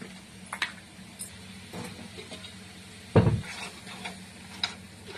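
Crabs fry in a pan while a utensil stirs them, scraping and clinking against the metal in scattered strokes over a low sizzle, with one sharper, louder knock partway through.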